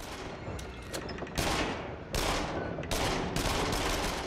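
Rapid gunfire in the VR shooter Until Dawn: Rush of Blood, haunted lodge level: loud bursts of automatic shots in several dense volleys, each cut off abruptly, close and continuous with no talking.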